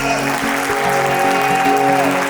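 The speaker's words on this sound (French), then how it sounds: "La salle, est-ce qu'on peut applaudir pour Amina Gerba, s'il vous plaît?" A gala audience in Montreal claps for an honoured guest while loud music with steady, sustained tones plays over the applause throughout.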